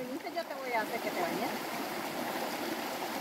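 Steady rushing of cold river water flowing nearby, with voices talking over the constant broadband wash.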